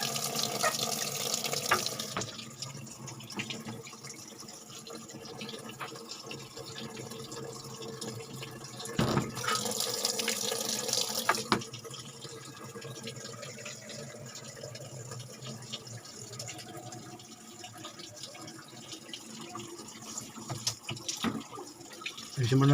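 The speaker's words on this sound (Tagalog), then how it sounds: "papasok na yung tubig" Water pours and splashes into the drum of an automatic washing machine showing an error 6 water-level fault, a steady close rush with louder surges partway through, a few faint clinks around it.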